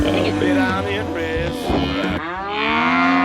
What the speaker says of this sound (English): So this pretty much happens anytime you change up the routine for these cattle. You guys can see they're all making a noise right now.